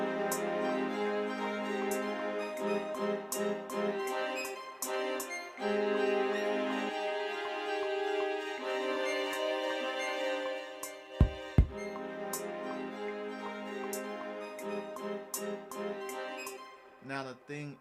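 Beat intro built on a Maschine Plus groovebox and a Polyend synth: layered melodic synth lines over steady drum hits, with a dense, continuous music bed, a brief bass-heavy thump near the end, and no talking.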